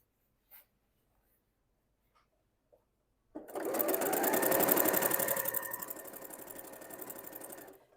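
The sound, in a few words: sewing machine stitching quilt table runner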